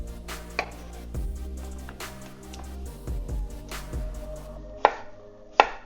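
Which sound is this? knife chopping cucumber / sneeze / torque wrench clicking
knife chopping cucumber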